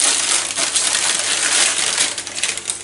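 Roasted chickpeas poured from baking paper into a jar, a dense continuous rattle of small hard pieces clattering against each other and the container, steady and close for about three seconds with no voices.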